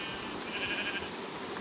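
Sheep bleating in the Minecraft lucky block mod, a short game animal cry heard alone against a steady low background.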